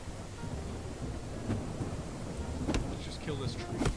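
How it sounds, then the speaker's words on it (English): Thunder during a video game storm, a continuous low rolling rumble with steady rain, several sharper cracks toward the end, and a voice speaking over it. "It is very thundery, but I don't see no lightning."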